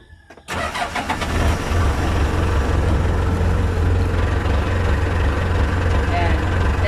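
A mini loader's engine starts and runs, then holds a steady, loud mid-pitched diesel drone as the machine drives forward, continuous throughout after a brief quiet opening.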